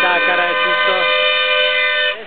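Loud, sustained vehicle horns blare together in a steady held chord in Indian road traffic, with shorter honks and voices mixed underneath, ending abruptly.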